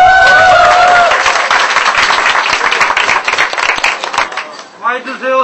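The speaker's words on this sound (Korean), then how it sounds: "박수!" Enthusiastic clapping and applause from a small crowd at a wedding after-party, dense and lively for several seconds before thinning out, with voices breaking through at the end.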